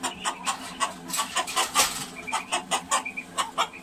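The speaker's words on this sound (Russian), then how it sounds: "петух пытается вырваться на волю" A rooster in a cage clucks repeatedly in short, agitated bursts, close by, trying to escape, with rustling and scuffling between the calls.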